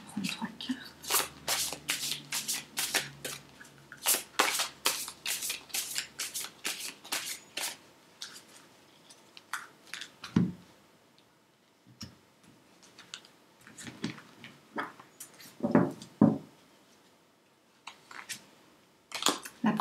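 Tarot cards are shuffled by hand in a long run of crisp, rapid riffling and flicking, loud at first and then more sporadic, with a voice speaking over parts of it.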